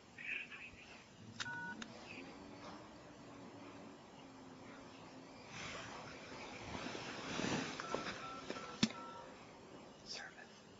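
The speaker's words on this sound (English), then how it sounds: "Okay, I'm going to call in." Telephone dialing while calling in: a few short keypad tones in quick bursts, faint and thin over a hissy line, with soft whispered voices murmuring in the background.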